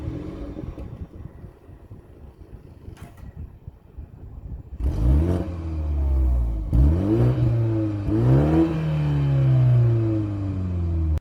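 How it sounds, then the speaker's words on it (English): Exhaust note of a 2021 BMW 430i M Sport coupe: a quiet idle and wind rumble, then the engine fires into close, loud revs that rise and fall several times. "have a hear of the exhaust note from this 430i"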